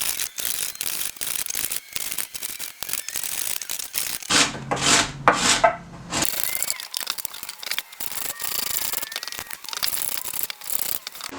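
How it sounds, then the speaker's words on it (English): Hand sanding a skim-coated wood slab with cheap no-name sandpaper, a near, steady rhythm of rough rasping strokes with a brief scuffing, crinkling stretch partway through. "I like to keep some of this cheap no-name sandpaper around for tasks like this where it's going to gum up really quickly."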